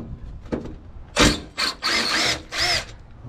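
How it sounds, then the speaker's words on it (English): A power drill backs Phillips screws out of an old aluminum table saw, some of them rusty: several short, close whirring bursts separated by brief pauses. "let's start by taking out some of these Phillips screws if we can."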